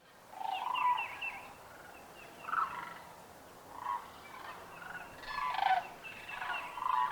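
Whooping cranes calling at Wheeler Refuge in Alabama, a series of loud bugling, rolling calls in short bursts separated by brief pauses, clear over a quiet outdoor background.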